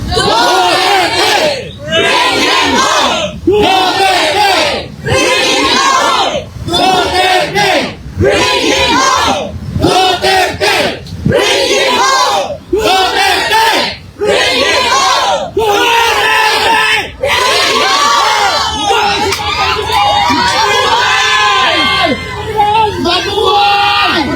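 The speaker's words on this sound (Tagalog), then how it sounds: "sigaw ng taong bayan, Tatay Digong" A large crowd at a political gathering chanting in unison for Tatay Digong, loud rhythmic shouted bursts repeating about every second and a half, close and dense, with yells mixed in.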